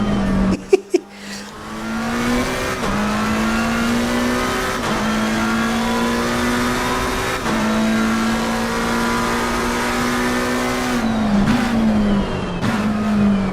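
Lamborghini race car in Assetto Corsa Competizione, its engine droning loudly and steadily as it climbs through the gears in repeated upshifts, with brief sharp noises near the start and a downshift near the end.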